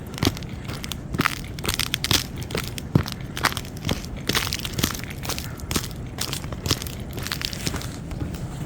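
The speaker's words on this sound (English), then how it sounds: "You can hear that. My boots breaking ice." Boots crunching and breaking ice while walking through icy snow on a snow day, producing a steady rhythm of close, loud cracking footsteps with brittle crackles between steps, continuing throughout without talk.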